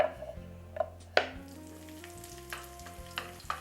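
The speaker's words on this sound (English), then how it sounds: "Look at these garlic slices. Saute them with olive oil." Sliced garlic sautés in olive oil in a sauté pan over medium heat, a soft close sizzle broken by a few sharp clinks and scrapes of a utensil against the pan.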